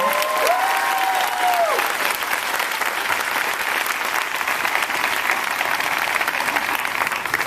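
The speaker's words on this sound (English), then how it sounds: "Can everybody please give Alex a big round of applause for that great introduction?" An outdoor crowd in Denver's Cheesman Park applauds steadily and loudly at a presidential speech, with a brief whistle early on.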